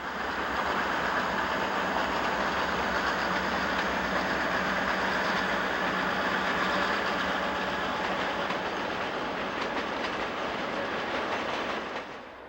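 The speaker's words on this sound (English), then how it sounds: "We're pacing a train as we climb Echo Canyon." A long passenger train, including a Southern Pacific car and an Illinois Central sleeper, grinds steadily up the grade through Echo Canyon, Utah, a loud continuous roar of wheels and wagons with faint clickety-clack, heard close alongside the whole time.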